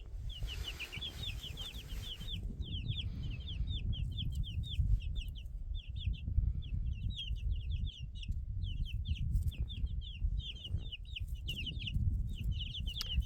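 Young chickens in a brooder chirp and cheep in rapid, repeated high peeps throughout, with a low steady rumble underneath and no voices.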